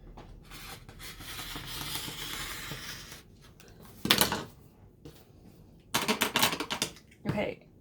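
A rotary cutter trims pillowcase fabric along a ruler: one sharp rasping cut, then a longer scraping pass and a short final stroke, close and fairly loud over a quieter murmuring background.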